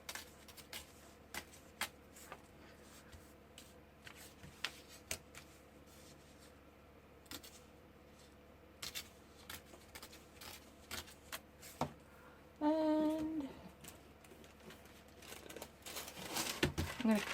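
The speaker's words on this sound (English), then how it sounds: "Now, get my tear ruler, and I'm going to tear off" A paper margin is torn off along a metal tear ruler during a table-scraps page-edge craft session, heard as a brief ripping burst near the end after scattered light taps and paper handling.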